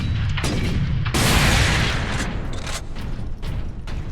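Heavy gun turrets pounding away in Warhammer 40,000: Space Marine, a dense barrage of loud repeated blasts and booms that swells in the middle and keeps firing throughout, with no talking.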